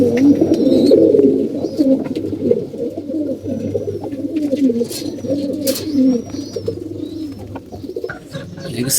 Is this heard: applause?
no